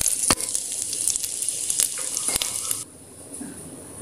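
Ingredients tipped into hot ghee sizzle and fry steadily in a pan for Tamil-style urad dal biryani, with a few sharp crackles and clinks near the start, then the sizzle settles lower and softer toward the end.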